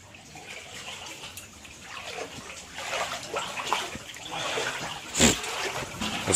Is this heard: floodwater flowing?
yes